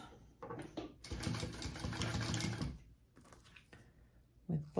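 Home sewing machine basting the bottom of a fabric piece, a fast whirring stitch run of about two seconds between shorter bursts, close and alone.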